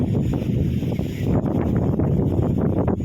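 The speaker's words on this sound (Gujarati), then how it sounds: "તોફાની પવન છે।" Strong, stormy wind roars steadily against the microphone, a continuous low rumble with gusty buffeting throughout.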